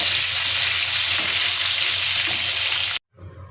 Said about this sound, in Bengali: একটু একটু ভালো করে নেড়ে চেড়ে এটা ভেজে নেব।